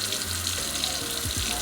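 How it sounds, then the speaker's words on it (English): Short pour of water from a tap into the bottom of a baking pan in a home kitchen, a steady gurgling trickle with a couple of sloshing glugs near the end. "I gotta put a little bit of water in the bottom of my 2 pans"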